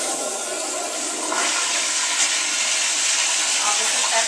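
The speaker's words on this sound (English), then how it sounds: "And I'll flush the toilet." Toilet flushing, a loud rushing hiss of water that swells after about a second and pours on steadily to the end, close by with no voices.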